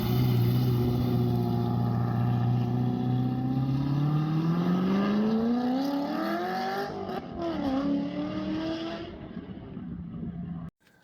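A cammed C6 Corvette Z06 driving and accelerating, its engine note climbing steadily in pitch through a long pull with a brief dip at a shift, loud from inside the car, then cutting off abruptly.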